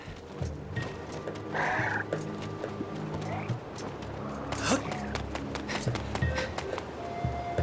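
In Zelda: Skyward Sword's Lanayru Desert, a bird creature chasing the player lets out gobbling, squawking cries over busy game music and effects, fairly loud throughout.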